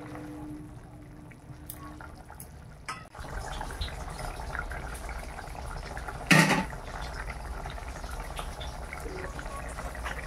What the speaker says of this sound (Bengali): দু মিনিট মতো ফুটে যাক, তারপর নামিয়ে নেব।